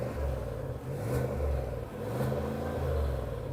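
A Cadillac Escalade's 6.2-litre V8 revs three times in quick succession, each a short, deep, booming swell that falls back to a rumbling idle, heard close and alone.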